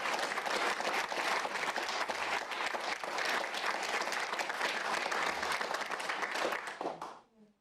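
Audience at a political speech breaks into long, dense applause that holds steady for several seconds, then fades out abruptly at the end.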